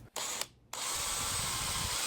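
A power drill bores a hole in wood: a brief trigger start and stop, then a loud, steady whining spin with grinding bite into the workpiece, close up.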